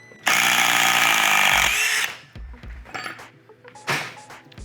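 A DeWalt XR cordless power drill runs at high speed for about two seconds driving out a large fastener, loud and close, followed by a few clunks and handling knocks.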